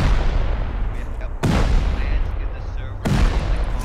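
Loud booming gunshots from a base-building shooter video game crack sharply three times at roughly 1.5-second intervals, each followed by a rumbling decay, with faint voices underneath.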